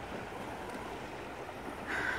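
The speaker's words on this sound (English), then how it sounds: "I think the noise of the water so strong is because it's rocks." A strong river rushes over rocks at Lourdes, a broad continuous roar of moving water with wind buffeting the microphone, steady throughout and swelling slightly toward the end.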